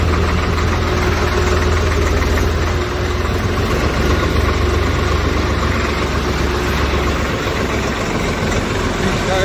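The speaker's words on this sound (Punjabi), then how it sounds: "ਇੰਜਣ ਸਾਊਂਡ ਨਾਲ ਕਿੰਨੇ RPM ਹੋ ਗਏ" A Swaraj 855 tractor engine idles loud and close, a steady low diesel rumble with a fast even knock that holds unbroken from start to finish.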